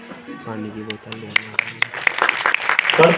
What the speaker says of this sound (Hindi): करतल ध्वनि, तालियों की आवाज निरंतर आती रहनी चाहिए।